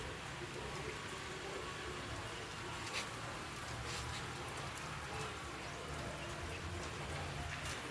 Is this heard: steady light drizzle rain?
yes